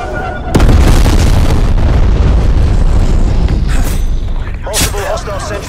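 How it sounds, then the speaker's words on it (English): Bomb strike explosions in Call of Duty: Black Ops Cold War roar as one loud, sustained, rumbling blast that fills several seconds, with a sharp crack near the end and radio-style voice callouts layered on top. "Artillery inbound. Sit rep. Bomb strike inbound."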